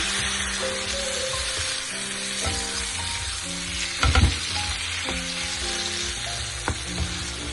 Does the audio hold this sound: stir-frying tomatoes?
yes